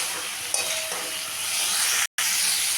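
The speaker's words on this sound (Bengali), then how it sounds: "মশলাটা ভালো করে কষিয়ে নিলাম" A spice paste for cauliflower and potato curry fries in a pan, with a splash of water and a few grains of sugar added. The close, even sizzle runs steadily, cut by a brief silent gap near the end.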